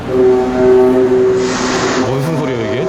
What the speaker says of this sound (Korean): 열차 들어온다고.